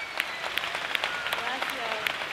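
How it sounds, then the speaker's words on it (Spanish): An audience gives a quiet round of applause for a guest called Senna, a fairly faint, uneven patter of scattered claps with a murmur of voices underneath. "me encantaría que recibamos a Senna con otro aplauso"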